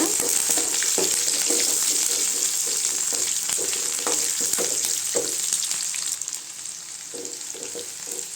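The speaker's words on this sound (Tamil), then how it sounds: "வெங்காயம் நல்லா வதங்கட்டுங்க" Onions with a little coriander leaf sautéing in a pan for tiffin sambar give a steady, close hiss of frying, with soft spoon-and-pan knocks scattered throughout.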